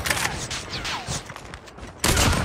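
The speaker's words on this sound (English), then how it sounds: "Somebody's shooting me." Gunfire in Call of Duty Mobile crackles in sharp bursts, a dense volley at the start, scattered shots through the middle and a loud burst at the end, with no talk.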